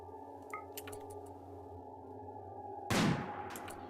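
In RimWorld, a low electronic hum runs under the scene until colonists open fire in one sudden, loud burst of shots that then fades off.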